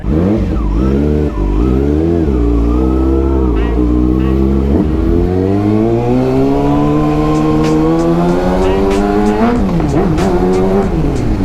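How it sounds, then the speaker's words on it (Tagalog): A Kawasaki Ninja ZX-6R 636cc motorcycle blasts a loud exhaust, with engine revs climbing and falling in repeated sweeps while it accelerates. It is very close and continuous, with no talk over it. "napakaingay ng tambucho"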